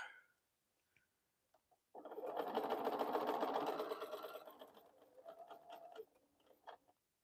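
Bernina sewing machine stitching while making fabric bowl cozies, a close rapid mechanical chatter that runs for about four seconds, then slows and stutters to a stop as the thread runs out.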